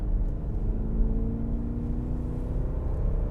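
A BMW Alpina XB7 accelerating through tight, narrow corners, its engine a steady low rumble with a faint rising whine, heard from inside the car with no talk.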